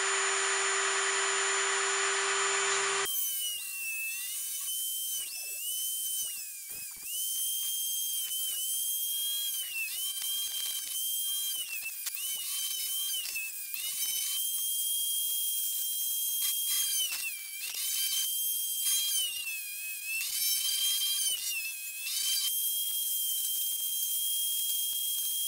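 A power drill cuts slits into a dampened GoPro mount for a tricopter, giving a steady high-pitched whine with small pitch dips and surges as the bit bites, loud and close, with no talking.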